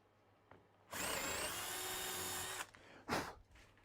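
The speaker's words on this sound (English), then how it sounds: "And drill the clearance hole." A power drill whines steadily for nearly two seconds while boring a clearance hole through a wooden bench seat, then stops, followed by a short burst of rustling handling noise.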